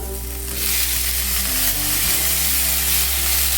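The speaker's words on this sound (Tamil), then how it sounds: "இப்போ இதையும் சேர்த்து வதக்கிக்கலாம்" Onions and tomatoes sauté in a hot pan for parotta salna, a steady close sizzle with soft stirring scrapes, the tomatoes dropping in partway and briefly damping then swelling the frying hiss.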